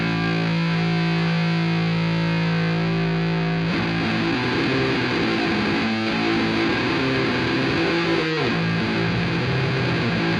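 Heavily distorted electric guitar from an album, starting as a sustained, droning chord, then breaking into dense, driving riffing with drums for the rest of the passage, loud and continuous throughout.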